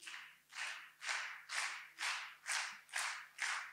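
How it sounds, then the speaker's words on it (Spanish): Theatre audience clapping together in a steady beat, eight broad, even claps at roughly two per second, filling the room without any voices. "¿Pueden aplaudir a ese ritmo?"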